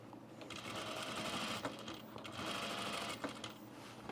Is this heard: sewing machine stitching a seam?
yes